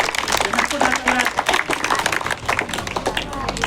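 An audience at a children's day celebration claps for a young girl about to perform, a dense burst of applause from a nearby crowd. Voices are heard under the clapping.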